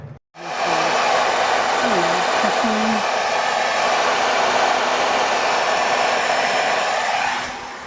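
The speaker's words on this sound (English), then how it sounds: "I'm going to leave that hair dryer on there" A hair dryer blows steadily at close range outdoors in cold weather during a Nissan Frontier rear ABS sensor repair, a loud continuous whooshing hum almost unbroken from start to finish, with faint brief noises near the start.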